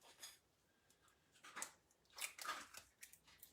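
A dog crunches food nearby in a quiet kitchen, giving a few short bursts of faint crunching and chewing with gaps between bites.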